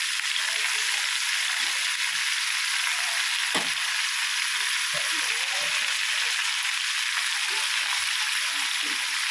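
Squid and corn sizzling steadily in a hot pan, a dense, even frying hiss throughout with a few faint clinks and stirring sounds, no talking.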